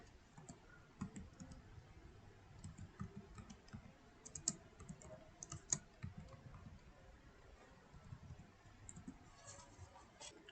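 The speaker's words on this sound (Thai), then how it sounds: "แล้วก็ไปที่ Google นะครับ แล้วเราพิมพ์ว่า private IP address" Someone types a Google search on a computer keyboard, and a steady run of soft, close key clicks with a few sharper taps carries on for about ten seconds with no voice over it.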